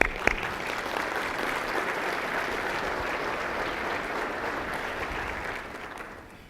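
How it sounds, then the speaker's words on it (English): A room full of people applauding at a State of the City address, steady clapping at moderate distance that holds evenly and then slowly fades out. "I think that deserves a round of applause."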